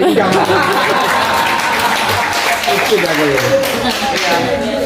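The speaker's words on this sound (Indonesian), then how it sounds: "Tepuk tangan dulu yang basic." Hand clapping from several people mixed with chatter and light laughter, a busy steady crowd sound throughout.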